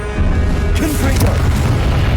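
A Confringo blasting spell detonates in Hogwarts Legacy on PS5: one loud, booming explosion with a deep rumbling low end that sustains for about two seconds after a short quiet lead-in.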